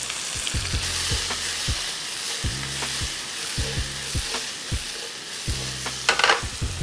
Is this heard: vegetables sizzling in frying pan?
yes